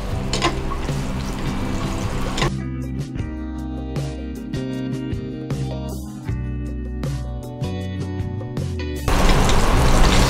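Chicken keema tikki sizzles in a pan over a slow fire, a close, steady crackle scattered with sharp pops that grows louder toward the end, with no talking.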